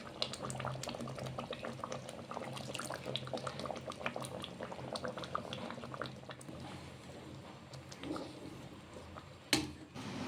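A pot of fish roe curry with cumin and garam masala boils steadily, dense bubbling and popping throughout, with a brief louder clatter near the end and no talk.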